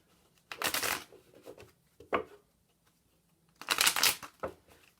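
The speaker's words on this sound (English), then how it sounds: "One more shuffle, please." A tarot deck of playing cards is shuffled up close in two distinct riffling bursts a few seconds apart, each a quick papery flutter, separated by softer taps as the cards are squared, with no talking.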